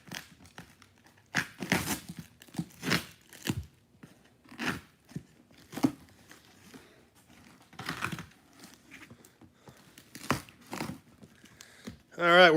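Heavy duct tape being torn and ripped off a taped-up cardboard box, loud bursts of ripping and crinkling mixed with someone talking throughout.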